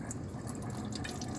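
Water trickles and drips steadily while rinsing a stained glass microscope slide at a lab sink, a soft continuous splashing close by with no voices.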